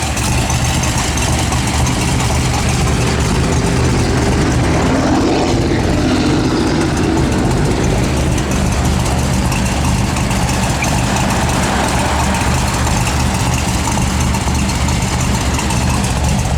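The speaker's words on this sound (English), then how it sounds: "That is a slick 55 Chevy right there." A 1955 Chevrolet 210 idles steadily, its low engine rumble continuous and fairly loud throughout, with passing traffic adding a broad wash of road noise around it.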